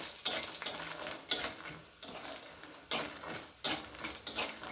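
Lentil dumplings and bitter gourd frying in oil, a constant close sizzle broken by repeated scraping stirs of a utensil against the pan.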